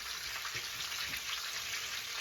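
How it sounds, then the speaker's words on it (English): Panko-coated chicken nuggets fry in hot oil with a quiet, steady sizzle and fine crackling pops, faint and continuous throughout. "they are frying quickly"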